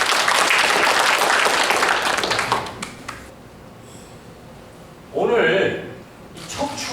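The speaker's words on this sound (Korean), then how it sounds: "큰 박수로 환영해 주시기 바랍니다." An audience in a lecture hall claps to welcome a lecturer at a CEO economics academy session. Loud applause fills the first few seconds and then fades, after which a voice speaks.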